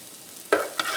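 Onions and garlic frying in a little olive oil on a stove, with two short bursts of sizzling and stirring, the first louder, over a low hiss.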